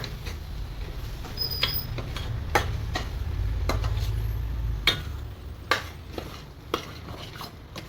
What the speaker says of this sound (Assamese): এয়া আধা ভাজি থোৱা কঁঠালখিনি ইয়াত ঢালি ধুনীয়াকৈ মিক্স কৰি দিম।